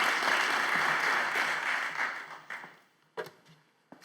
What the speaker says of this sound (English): Another round of applause for QuantOpticon and Dr. Mileva Koleva, please.